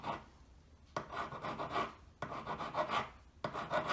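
A file rasps across a solder join on a wedding ring in three close, rhythmic bursts of back-and-forth strokes, each starting sharply and separated by short pauses.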